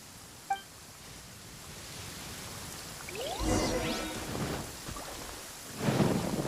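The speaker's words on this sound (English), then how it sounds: "Uh-oh! Lightning storm!" Stormy weather in the Genshin Impact video game: steady rain hiss throughout with a crackling lightning strike and rolling thunder building midway, then another heavy rumble near the end, fairly loud and close.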